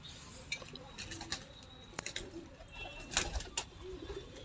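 A pigeon coos softly in short, repeated murmurs amid a quiet outdoor background with scattered clicks and rustles, faint and a little distant.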